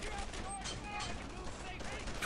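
Bursts of gunfire from the World War II shooter Brothers in Arms: Earned in Blood rattle over game background noise, with a player talking through the shots.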